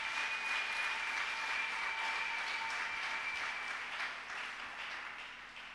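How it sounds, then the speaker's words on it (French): A church congregation applauds: dense, sustained clapping from many hands in a reverberant hall, loud at first and tapering slightly toward the end. "On acclame le Seigneur. Tobete likolo maboko makasi."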